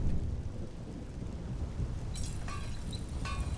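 Steady rain with distant rolling thunder in the Skyrim video game, a continuous low wash of rainfall and rumble, with a few brighter crackling bursts near the end.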